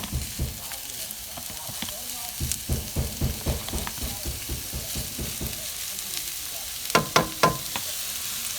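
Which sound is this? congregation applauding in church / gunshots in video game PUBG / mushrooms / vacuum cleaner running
mushrooms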